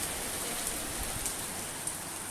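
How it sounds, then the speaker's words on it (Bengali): Heavy rain pouring outside a large old Darjeeling mall with big windows, a dense continuous hiss of drops on surfaces, steady and even throughout, no talking. "এখন বৃষ্টি পড়ছে"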